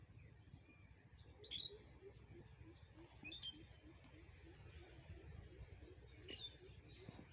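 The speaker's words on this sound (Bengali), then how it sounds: "গ্রাম্য পরিবেশ, সকাল সকাল কত সুন্দর পাখিতে ডাকতেছে।" Birds call in a village vegetable garden in the morning, faint, scattered chirps rising now and then over a quiet, low background.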